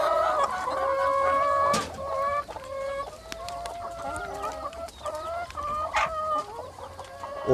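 Hens cluck and chatter inside a village egg-laying chicken coop while feeding, with a close, busy chorus of overlapping calls and one sharp louder squawk midway.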